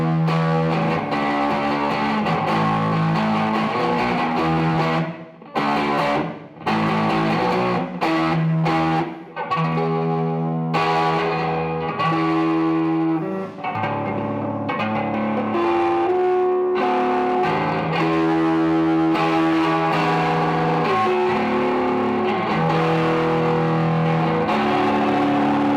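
An electric guitar played through a Maekloeder Dual Channel 5000 distortion pedal rings out in loud, sustained, heavily saturated chords and notes, with a few brief gaps, for nearly half a minute with no talking.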